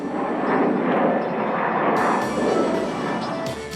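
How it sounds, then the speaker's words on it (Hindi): An airplane flight sound effect: a loud, steady, broad jet roar that holds for several seconds, fading slightly near the end, with no voices. "वेंकट ने पहले कनाडा और फिर न्यूयॉर्क के लिए उड़ान भरी।"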